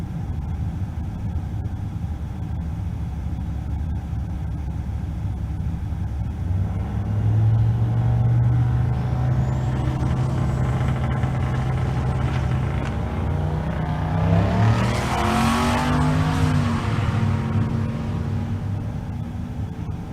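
Sixth-generation Camaro making a drag racing pass at Kearney, Nebraska: a steady engine drone builds into a loud rising roar that swells as the car launches and passes, then fades back toward a rumbling background.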